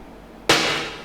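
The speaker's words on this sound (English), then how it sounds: "I layered a third snare to make it sound even more like just slightly different." A layered snare drum for a beat hits once, sharp and loud, then rings and decays after a quieter lead-in, with no voices.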